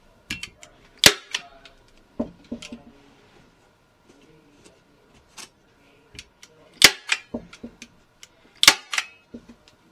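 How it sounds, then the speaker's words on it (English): A Stanley staple gun drives staples through fabric stretched tight over a bench being refinished, a run of sharp, separate snapping clicks at uneven intervals with quieter handling noises between them and no talk. "I'm just using a Stanley staple gun, and make sure the fabric's nice and tight and staple it down"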